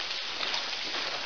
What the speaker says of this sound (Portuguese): Tá chovendo dentro do túnel.